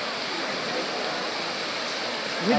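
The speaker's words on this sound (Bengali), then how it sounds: "সামনে একটি সুন্দর ঝর্ণা" A water fountain at the ISKCON temple in Mayapur splashes in a steady, close, even rush of falling water that holds constant throughout, with no talk over it.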